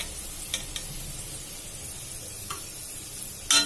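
Chana dal fries in hot oil with a soft, steady sizzle, broken by a few sharp clicks of stirring, the last one louder and close.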